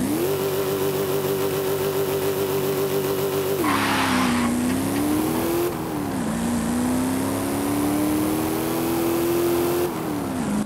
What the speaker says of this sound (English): The Jeep CJ5 Renegade 1976 is a classic and rugged off-road vehicle